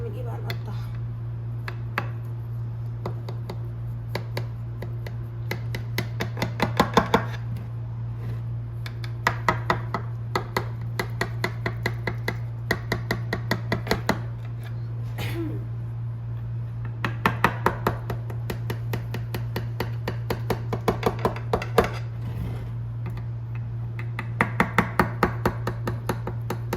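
Knife chopping chicken pieces on a board, a sharp rhythmic series of cuts coming in bursts of rapid strokes over a steady low hum, up close.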